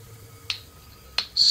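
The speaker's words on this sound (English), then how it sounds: "Slow clap, just for you." Two sharp hand claps spaced well apart, slow and deliberate, close by, in the video game Assassin's Creed 2, followed by a brief burst of hiss.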